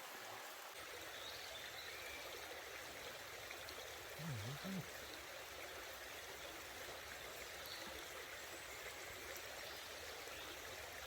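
Broadband steady rush of a river flowing through a forest at a wild overnight camp, constant and enveloping across the whole stretch, with a brief low tonal blip midway and no talking.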